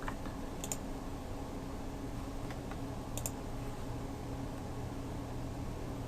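A few faint keyboard clicks scattered over a steady low hum of background noise, with no talking.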